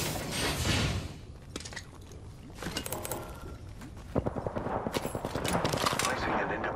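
Gunfire in an Apex Legends battle royale match, with bursts of rapid automatic shots, the heaviest volley in the final seconds, mixed with scattered single shots and game effects.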